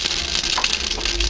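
Mustard and fennel seeds crackle and spit in hot oil, a dense steady sizzle with fine pops throughout, close and fairly loud, with no voices.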